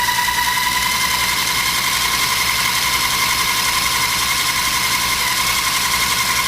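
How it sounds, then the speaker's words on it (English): A food processor whirs steadily at a raised speed while mixing pie dough for a coconut green pie, a loud continuous motor drone with a high tonal whine, unbroken and without voices. "I could fit everything into the food processor. And now I'm going to bring the speed up a little bit."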